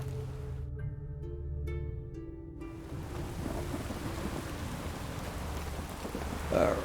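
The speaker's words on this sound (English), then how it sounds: "Batting out in the rain." Steady rain in the video game Witcher 3 patters over a low rumble, with a few tonal hums fading early on; no voices, a continuous wet hiss throughout.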